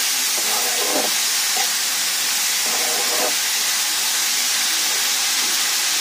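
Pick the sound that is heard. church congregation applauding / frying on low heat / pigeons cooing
frying on low heat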